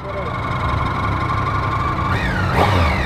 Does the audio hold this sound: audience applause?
no